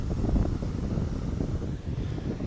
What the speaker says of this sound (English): It's a bit windy, hopefully you can hear me